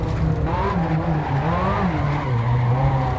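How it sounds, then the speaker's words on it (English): Ferrari tires squealing and skidding while drifting in the Assetto Corsa racing game, a continuous wavering screech over a loud engine drone. "Had to try drifting there a little bit."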